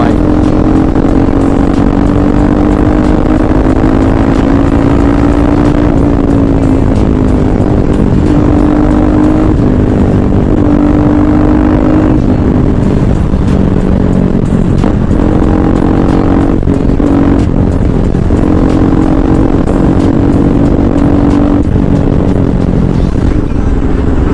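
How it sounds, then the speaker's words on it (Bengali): A motorcycle with an engine fault runs loud and close for a long stretch. Its steady exhaust drone shifts slightly in pitch as the throttle is worked, with rattly clatter over the top and no talking. "তোমাদেরকে আজকে এক্সস্টের থ্রোটেলের সাউন্ডটাও হালকা পাতলা শুনিয়ে দেবো"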